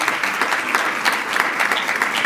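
A congregation at a Christmas Day church service applauds a family blessed with a grandson; brisk, close, loud clapping from many hands fills the short stretch.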